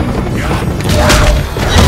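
A pipe bomb explodes in Left 4 Dead 2, a loud, dense booming blast with crashing debris that swells and stays heavy through the short stretch.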